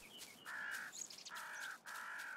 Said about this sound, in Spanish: ¡Ahí los cuervos!